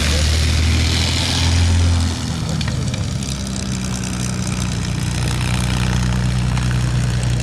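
An Antonov An-2 biplane drones loudly at an airshow as it takes off, a steady, powerful propeller and radial engine roar that holds close and constant throughout.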